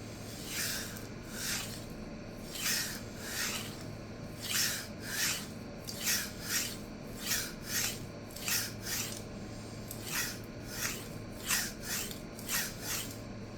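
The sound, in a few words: deburring 52100 steel chef knife on diamond stone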